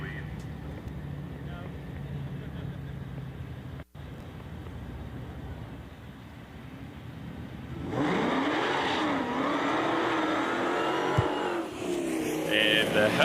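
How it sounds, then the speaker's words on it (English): At a drag strip, a Dodge Hellcat and a Jaguar XJ race with a low rumble that swells into a loud, rising engine roar as the cars launch and pull away, with a sharp burst near the end. "The Hellcat on the right-hand side is going to let out of it a little bit early and try to give the XJ of Francis Thomas a fighting chance."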